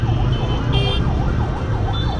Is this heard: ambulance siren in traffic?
yes